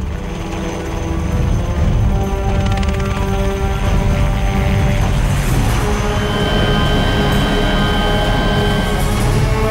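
An Indian Army helicopter drones loudly and continuously overhead during a search operation for missing soldiers in the snowy Siachen mountains, its steady rotor and engine hum filling the scene without pause.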